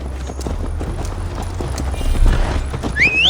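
Horse hooves clop steadily in a running rhythm throughout, close and fairly loud, while riding in Assassin's Creed Valhalla, with a brief whinny-like rising tone near the end.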